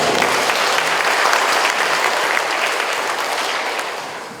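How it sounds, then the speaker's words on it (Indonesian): Loud, sustained applause fills a hall at the opening of CIGPro 2024 as the audience claps for the PPGLHK team, a dense wash of many hands that slowly tapers off toward the end. "boleh tepuk tangan dong"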